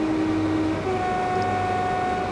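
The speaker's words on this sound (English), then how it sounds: "I also have a 2-tone horn controlled with the spacebar and the B key, like so." Two-tone horn of a Class 365 electric train in Train Simulator 2016, sounding one sustained tone and then a second tone over a steady cab rumble, loud and close, with no voices.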